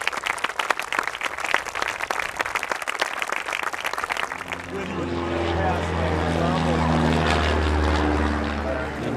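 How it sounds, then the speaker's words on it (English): A crowd claps loudly for about four seconds at Isle Royale, then the applause gives way to a steady droning engine. "a big round of applause for all of these people here"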